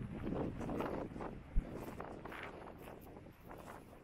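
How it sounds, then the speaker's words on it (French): Strong wind buffets the microphone outdoors near circular stone pyramids around Ciutadella, Menorca, a continuous low rumbling roar with gusty swells and one brief thump, no talking. "il y a beaucoup de vent qui me pousse vers le trou là"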